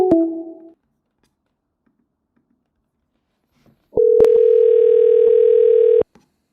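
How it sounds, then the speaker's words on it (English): A voicemail recording tone on a phone call: a short electronic blip, a few seconds of silence, then a loud, steady two-second beep that cuts off abruptly. "At the tone, please record your message."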